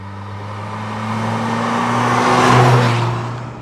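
A Mazda RX7 Mk1 rotary engine revs up smoothly, its pitch and loudness climbing steadily to a peak before easing off slightly, heard close from inside.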